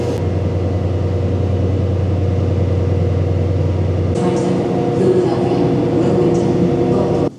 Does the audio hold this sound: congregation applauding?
no